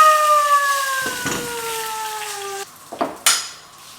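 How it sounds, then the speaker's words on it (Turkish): A utensil scrapes and clinks against a pot while stirring brown rice, with a few sharp metallic knocks over a sustained ringing tone. "Bir güzel karıştırıyoruz."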